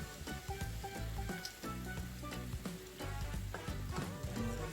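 Jamaican fritters frying in hot oil, a steady close crackling sizzle with bursts of popping and occasional clinks of a utensil, no voices over it.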